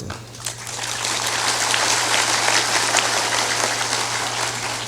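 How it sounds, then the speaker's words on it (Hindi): Dense, loud clapping from a large audience at a religious satsang gathering in Bihar, a continuous even wash of applause with a low steady hum beneath it. "थोड़ा जोरदार ताली बजाया करो।"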